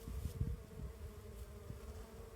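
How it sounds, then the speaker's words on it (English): Bees buzzing steadily at an open hive, a continuous close drone with a few louder swells, heard alone without any voices. "the bee vibration is super amazing"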